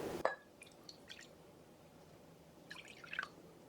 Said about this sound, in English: Using the same bowl, we're going to measure 75 grams of filtered water.